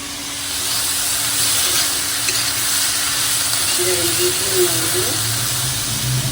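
Vegetables frying in a pan for a Bengali home meal, a continuous close, loud sizzle and hiss of oil with faint clinks of stirring throughout.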